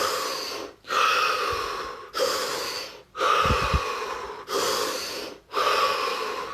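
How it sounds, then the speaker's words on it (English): Slow, deep breathing close to the listener: three long whooshing inhales and exhales in a steady rhythm, with brief quiet pauses between them. "3 deep breaths."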